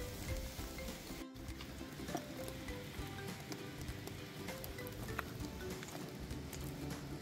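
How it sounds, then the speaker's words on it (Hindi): Broccoli and tofu cook on a grill for a mixed vegetable dish, producing a soft, continuous sizzle with scattered pops and crackles, fairly quiet and without speech. "ये देखिए ब्रोकली, टोफू, सब चीज़ हमारा बहुत बढ़िया से ग्रिल हो रहा है।"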